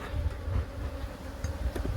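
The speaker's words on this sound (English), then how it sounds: "See, these bees are a little bit more defensive today" Honeybees buzz around an opened hive frame during an inspection, a close, continuous droning hum that wavers in loudness as the somewhat defensive bees fly near.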